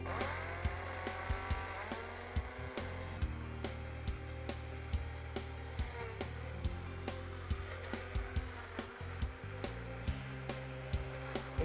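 A kitchen mixer grinder processing watermelon, used as a juicer, hums with a steady motor drone and is broken by frequent sharp knocks and rattles of fruit chunks against the jar. It sounds fairly quiet and close.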